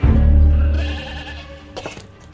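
A sheep bleats loudly and close as a radio drama sound effect, one long wavering cry that fades out, followed by faint clicks.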